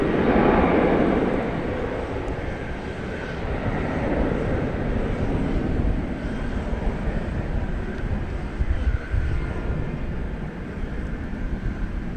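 A Boeing 737-900 airliner at DFW Airport under overcast North Texas skies gives off a steady, broad jet engine roar. It is loud and sustained through the whole clip, with no one talking.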